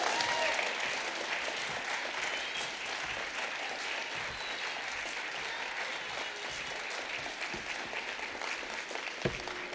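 Sustained audience applause at an MLK Day human rights commission ceremony, a dense steady clatter of many hands filling the room for nearly ten seconds with a few scattered louder claps.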